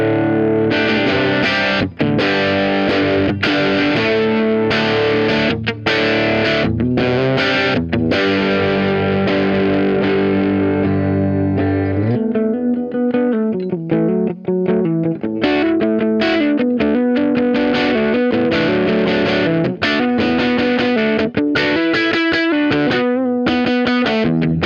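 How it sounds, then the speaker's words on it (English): A distorted PRS electric guitar on its bridge pickup through a Vox AC15 tube amp plays loud, driving rock chords and riffs, first sustained and ringing, then choppier with palm-muted rhythmic bursts. "We're on the bridge pickup because it just sounds awesome and rocking on the Zach Myers PRS."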